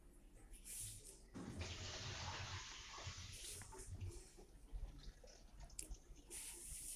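Water poured out of the drip tray of an LG two-door refrigerator, a steady splashing pour for about two seconds that then fades into trickles and drips, near and moderately loud.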